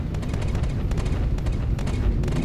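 Ship cannon fire in the space game Star Citizen during a team fight aboard a Tally: a dense, rumbling barrage of rapid shots and heavy low booms that runs continuously, close and loud.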